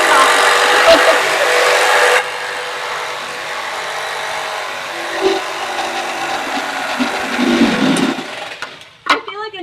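A 4,500 RPM jigsaw buzzes through wood being cut for cornhole boards, loud and close at first, then settling into a lower, rougher rasp with a few knocks and scrapes toward the end.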